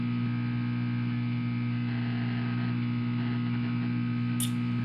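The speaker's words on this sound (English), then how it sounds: "So this would be the elevator." Steady, unchanging low electrical hum of an elevator in the video game Liminal Core, with a faint static hiss above it and a brief soft click near the end.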